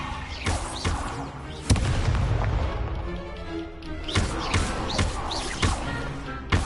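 Repeated Incendio fire spells and Levioso casts in Hogwarts Legacy combat, a busy run of sharp magical bursts, whooshes and impacts layered over a steady battle din, with no talk.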